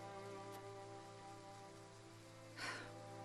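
Steady rain falls in the video game Triangle Strategy, a soft constant patter over a low hum of game music, with a brief louder splash near the end.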